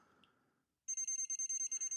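Aneng 3008 pen multimeter emitting a rapid series of short, high electronic beeps, about a dozen evenly spaced pulses, close and clear after a faint murmur and a moment of silence.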